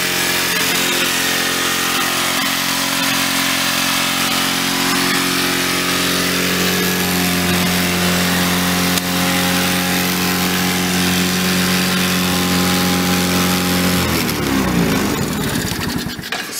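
A 125cc go-kart engine runs steadily at a high idle, a loud, continuous buzzing drone with a constant pitch that holds close for most of the clip before the revs drop and waver toward the end, with no talking.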